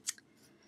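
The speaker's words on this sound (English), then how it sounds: "This is where you're going to need your scissors." Scissors snip yarn while crocheting Easter eggs: one quick, crisp close-up cut followed by a faint second click.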